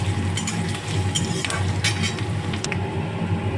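Onions frying in a pan, with a steady close sizzle and a utensil stirring and scraping against the metal in a few light clinks, no talk.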